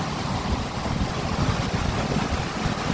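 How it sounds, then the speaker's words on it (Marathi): Heavy sea waves crash and churn on a rough, stormy coast, a constant close roar blended with wind rumbling across the microphone, with no one speaking. "किती डेंजर लाट आहेत बघा."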